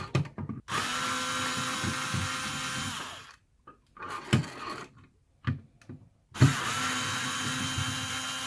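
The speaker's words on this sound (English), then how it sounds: "A common use for an electric screwdriver is taking apart or putting together common household items." A small electric screwdriver taking apart a toy car whirs in short bursts: one long run, a few quick spurts, then another sustained whine, close and steady.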